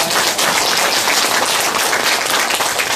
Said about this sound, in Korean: 다시 한번 박수로 오늘 열강을